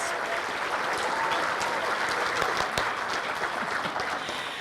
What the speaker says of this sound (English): let's hear it for a round of applause if you love native plants.